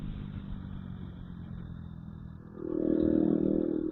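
KTM RC 200 BS3 motorcycle fitted with a full-system Micron-style exhaust, out on a ride, its engine droning steadily under wind rush, then swelling louder as it revs up near the end.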